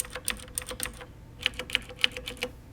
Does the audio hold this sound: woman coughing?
no